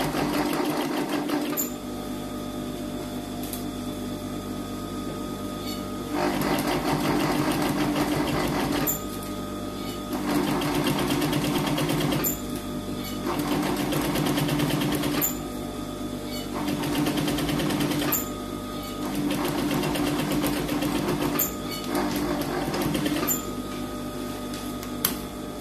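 Sewing machine stitching a straight seam with a presser foot, running in steady bursts of a few seconds with brief pauses between them, close and even, with no talk over it.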